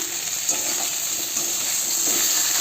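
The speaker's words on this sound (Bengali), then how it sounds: "লঙ্কা ভাজা হচ্ছে" Fish frying in a pan with chili-onion paste while it is stirred, a steady close hiss with faint scraping under it, continuous and with no voices.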